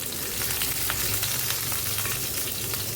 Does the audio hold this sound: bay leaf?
yes